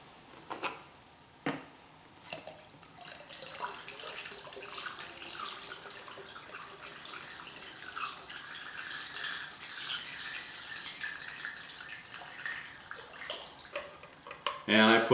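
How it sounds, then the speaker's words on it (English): Water pours into a plastic nasal rinse bottle, a steady close trickle and splash that runs for several seconds after a few clicks and knocks, ending in a short louder rattle. "Then I pour the rest of the water back in the top."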